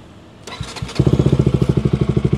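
A 2019 KTM RC200 with an Akrapovic exhaust cranks with a whirring starter, catches, and settles into a loud, rhythmic pulsing idle close by.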